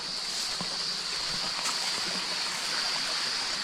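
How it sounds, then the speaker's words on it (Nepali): A small mountain stream flows steadily along a hiking trail, a soft continuous hiss and trickle with faint splashes, evenly heard throughout with no talking. "सानो खोला सँगसँगै बग्ने"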